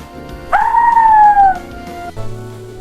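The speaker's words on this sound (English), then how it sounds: "I am a wolf. I howl." A wolf's single long howl rises sharply and holds steady for about a second before trailing off, loud and close, with no talking over it.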